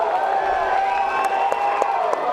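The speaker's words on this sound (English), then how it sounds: "Crowd showing their appreciation for this banger of a championship fight" Crowd cheering and applauding at a kickboxing championship fight, a steady roar of voices with scattered claps, continuous and moderately loud, with an announcer talking over it.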